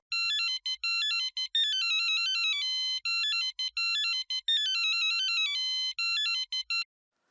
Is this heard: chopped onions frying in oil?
no